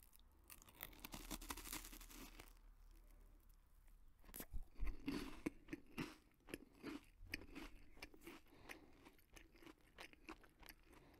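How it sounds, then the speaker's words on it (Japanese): Close-miked crunching and biting of a Bikkuriman chocolate wafer, a series of sharp crisp snaps and softer mouth chewing in uneven rhythm, very quiet and intimate with no talking. "咀嚼音苦手っていう方はですね、ご注意ください。"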